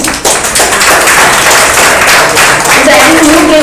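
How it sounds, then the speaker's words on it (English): Dense, loud applause fills a hall as an audience claps for students at a college award ceremony, a continuous crackle of many hands with a few sharper taps and a voice briefly rising near the end. "and I think a big clap for all the students."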